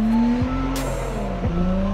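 A stanced Honda S2000 and an R32 GTR run hard on a mountain road, engines revving loudly with pitch sweeping up and down between gear changes and a brief tire squeal, close and dominant.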